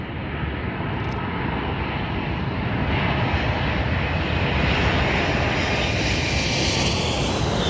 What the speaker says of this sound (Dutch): je gaat even een foto maken van een vliegtuig, heel gaaf boven je hangend